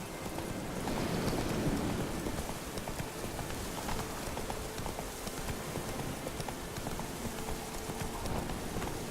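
Horse hooves galloping steadily in The Witcher 3: Wild Hunt, a continuous clip-clop rhythm over a dense game soundscape with rain and a low rumble, loud and close with no talk.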